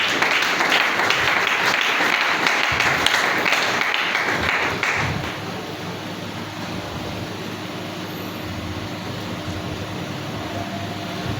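A church congregation applauds in a steady, dense wash of clapping for about five seconds before it tapers into a softer murmur of hall noise.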